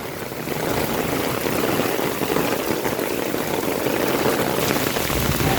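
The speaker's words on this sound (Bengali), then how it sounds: "তো দেখতে পাচ্ছেন এসআরকে বৃষ্টির ফিল নিচ্ছে" Heavy rain pours down in a dense, loud, steady wash of drops with no gaps, close by and with no voices.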